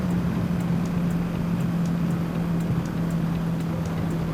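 Wind rushes steadily past a Kenwood KCA-HX7C helmet camera while riding, a constant loud roar with a low droning hum beneath it and no talk.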